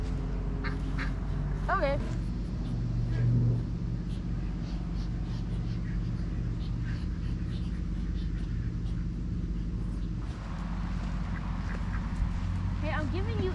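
Ducks quack now and then at close range outdoors, short nasal calls scattered under a person talking and steady background noise.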